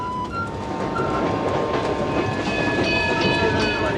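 A passenger train rolls along the track in a steady loud rumble with rhythmic clickety-clack of wheels, heard close from the locomotive, with no talk.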